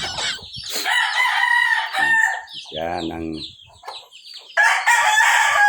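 Roosters crow loudly and repeatedly, long wavering calls near the microphone, with someone speaking briefly between the crows and a fresh crow bursting in at the end; the birds belong to a cockfighting derby fancier.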